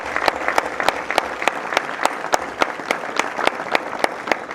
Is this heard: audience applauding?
yes